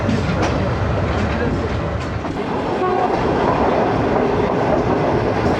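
Fast train passing at speed through Badami Bagh near Lahore, a loud continuous rumble and rail clatter close by, with a brief horn-like burst near the start.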